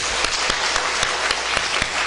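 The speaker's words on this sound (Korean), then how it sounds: "하나님께 영광의 박수를 드립시다" A church congregation applauds together, a dense, loud wash of clapping with faint regular beats running through it, sustained throughout.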